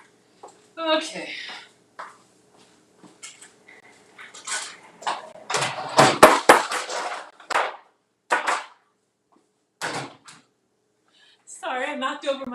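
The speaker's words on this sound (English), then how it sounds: "Sorry, I knocked over my trash." A trash can knocked over in a home kitchen, with scattered clunks building to a dense burst of rattling, clattering knocks midway, then a few loose bumps; a voice talks before and after.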